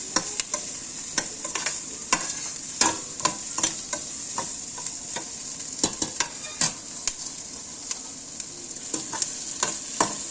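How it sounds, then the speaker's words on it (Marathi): Ingredients for broccoli cheddar soup frying in a pan, a continuous bright sizzle broken by frequent scraping and stirring clicks, close and fairly loud with no voices. "ते सर्व मी या ठिकाणी फ्राय करून घेणार आहे।"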